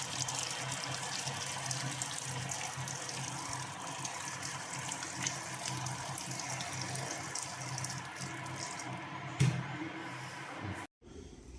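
Sparging water pours steadily into a brewing mash with a soft, even gush, close and continuous, ending with a brief clunk before stopping.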